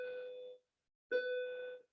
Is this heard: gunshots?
no